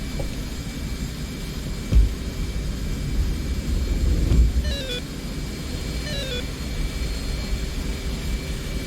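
Jet engine roar in the DCS flight simulator as the aircraft throttles up: a steady, loud broadband rumble with faint whining tones sliding across it, no voices.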